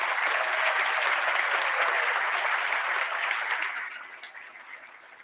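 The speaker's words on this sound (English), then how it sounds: "Let's give them a round of applause." Audience applause at a state contest award ceremony, a steady full round of clapping that tapers off and quiets over the final second or two.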